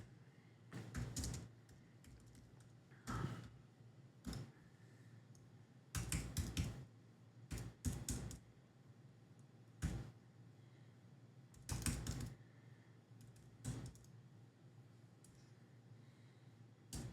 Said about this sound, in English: I thought I was typing